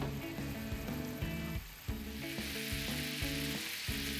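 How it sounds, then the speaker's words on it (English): A sauce of ginger ale, soy sauce and sugar simmers in a pan, giving a soft continuous sizzle and bubbling, faint and steady, with music playing underneath. "Stir lightly and simmer it down for 2 minutes."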